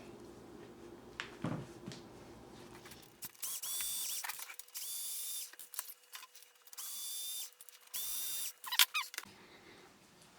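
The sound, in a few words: screws being removed from LCD monitor housing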